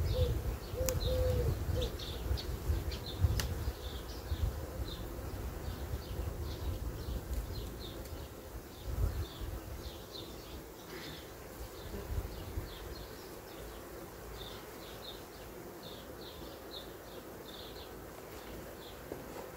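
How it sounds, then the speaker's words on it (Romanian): Honeybees buzzing around queen cages on hive frames, a steady low hum with repeated small rhythmic chirps and buzzes layered above, close and fairly quiet, with some handling noise early on. "Aici au reușit să intre vreo 2-3 albine."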